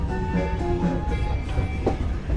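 Walt Disney World Railroad steam train rolling into a station, with steady low rumble, squealing tonal wheel and brake tones and clattering under continuous noise, fairly close.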